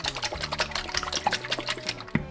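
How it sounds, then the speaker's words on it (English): A closed glass jar of homemade rustic salad dressing, oil and vinegar inside, shaken hard by hand, giving rapid rhythmic sloshing and splashing bursts, close and fairly loud, with no talk. "Just close it. And then we shake it."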